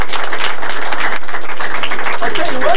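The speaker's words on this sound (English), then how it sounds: "Let's give a big round of applause." A studio audience applauds loudly and steadily, a dense wash of clapping that fills the space, with a voice briefly audible near the end.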